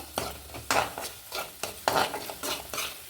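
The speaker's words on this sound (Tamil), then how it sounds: "இப்போ இது எல்லாமே நல்லா வதக்கிடலாம்" Garlic pickle ingredients being sautéed in sesame oil in a pan, with a spoon stirring and scraping in repeated bursts over a soft, steady sizzle.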